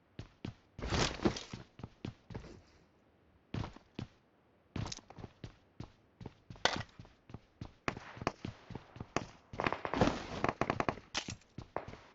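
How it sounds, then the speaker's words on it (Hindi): Gunfire in the mobile game PUBG Mobile crackles in rapid, uneven bursts of sharp shots, some single and some in quick strings, close and loud with short gaps of quiet between volleys. "तो भाई यहाँ पे फायरिंग शुरू हो गई"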